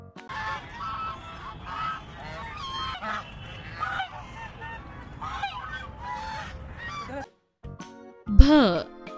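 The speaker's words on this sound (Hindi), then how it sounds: "ब से बत्तख।" A duck sound effect inside a Hindi alphabet recitation: a single brief, loud nasal honking call near the end, following steady spoken chanting over music.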